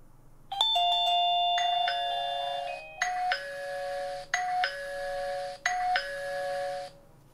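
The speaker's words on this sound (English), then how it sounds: "So all you have to do is hit the doorbell button." A wireless video doorbell's plug-in chime rings loud and clear after the button is pressed: a long melodic tone sequence, then three repeated ding-dong phrases with short gaps, and no talking over it.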